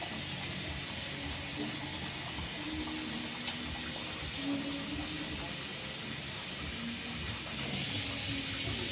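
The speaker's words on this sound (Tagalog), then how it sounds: "Kumuha lang po tayo ng tubig para ilalagay na natin." Water pours steadily into a cooking pot of arroz valenciana, a continuous close hiss and rush lasting the whole stretch.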